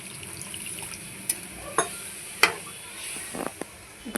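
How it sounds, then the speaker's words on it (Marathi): A small splash of water poured into a simmering egg curry pan, with a few sharp utensil clicks and a low kitchen hum. "थोडासा टाकते पाणी"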